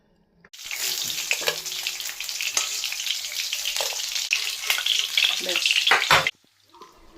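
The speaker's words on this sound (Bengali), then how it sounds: "আলুটা আর কচুটা এখানে ভালো করে ভেজে নিচ্ছি।" Potato and taro chunks frying in a little oil, a loud continuous sizzle with crackles and occasional stirring knocks that starts abruptly, runs for several seconds and then cuts off.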